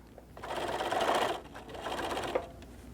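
A sewing machine stitches along the fabric edge of a tortilla warmer in two close, busy bursts of rapid needle chatter separated by a short pause.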